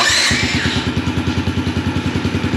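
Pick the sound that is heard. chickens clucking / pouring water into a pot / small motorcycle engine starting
small motorcycle engine starting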